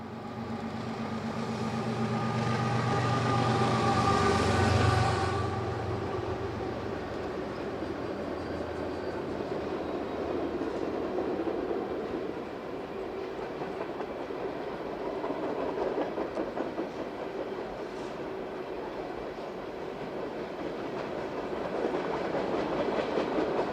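A long freight train rolls steadily past with a rumbling, clattering sound, carrying three Jeeps in transit, one a former Canadian National Wide Cab. Louder at the start, it then settles into a continuous mid-level roar of wheels and cars.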